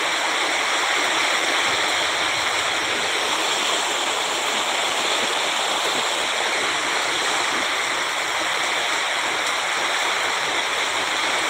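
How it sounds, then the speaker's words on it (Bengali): A storm brings heavy rain and wind, a dense, constant roar of water falling like a torrent with no breaks and no talk. "শুধু ঝড় পানি আর ঝড় পানি।"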